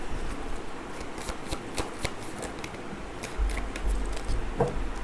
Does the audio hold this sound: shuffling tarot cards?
yes